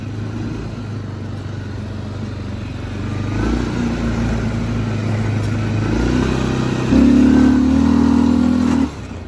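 A Linhai 550 utility ATV engine drones steadily while riding in high gear, its pitch and loudness rising gradually and peaking in a strong sustained roar before easing off near the end; close and loud, with no talking.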